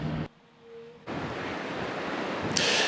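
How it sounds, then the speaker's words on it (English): Waves breaking on Lake Ontario at Olcott Beach as conditions build toward a rough night, a loud steady surf roar with wind noise buffeting the microphone, briefly dropping out before resuming strongly. "You can see the waves here on Lake Ontario are getting bigger and bigger."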